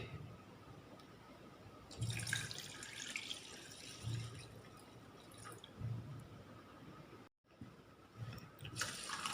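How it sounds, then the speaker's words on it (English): Water being poured into rice in a cooking pot, a continuous splashing and trickling stream with a few louder surges and one brief break. "Now let's add 2 cups of water in it."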